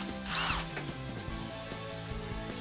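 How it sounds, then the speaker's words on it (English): A 10mm socket ratchets quickly on a bolt holding a Ford F-150 Roush single exhaust system. It gives a short burst of close mechanical clicking early on, then quieter handling noises over a steady low hum. "So I'll take that 10mm socket and remove this first bolt."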